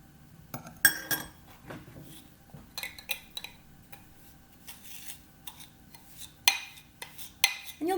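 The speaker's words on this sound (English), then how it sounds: "It's kind of stuck all to my spoon, so I'm gonna scrape my spoon off a little bit." A spoon taps and scrapes against a mixing bowl to clear off creamed butter and sugar for cookies, producing close, irregular clinks and short metallic knocks with quiet gaps between them.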